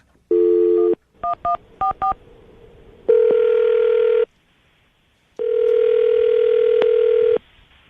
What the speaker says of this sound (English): All right, I'm going to call her right now, man.